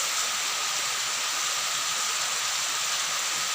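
A steady, even wash of heavy outdoor rainfall fills the space, a broad constant hiss with no pauses and nobody speaking.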